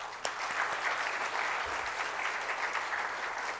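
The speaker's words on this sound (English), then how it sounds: "That deserves a round of applause." Sustained audience applause fills a business leadership event hall for the TiE Mysuru series, a dense steady clatter of many hands throughout with a sharp clap at the start and no talk over it.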